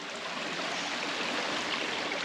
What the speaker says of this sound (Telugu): ఓన్లీ నీళ్ళు పోయే సౌండ్